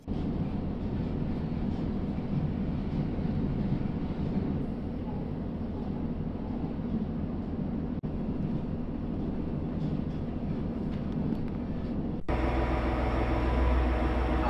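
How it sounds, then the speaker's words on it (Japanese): A heavy freight train rumbles past close by on the Uetsu Line at Atsumi Onsen station in Japan, a steady low roar of rolling wheels and wagons that continues throughout with no letup. "おっと貨物列車がやってきました"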